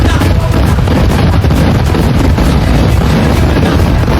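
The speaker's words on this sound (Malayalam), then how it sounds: "ഗംഭീരമായ വെടിക്കെട്ട്" Temple festival fireworks at Kavassery Pooram in Kerala, a very loud, dense barrage of rapid bangs and booms crackling continuously without pause.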